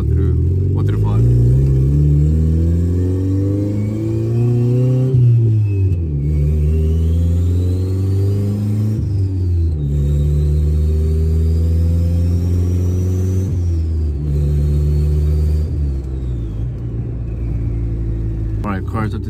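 A car engine revs up and drops repeatedly as the driver shifts through five gears with a Skunk2 short shifter, a loud, close rising drone broken by brief pauses at each shift.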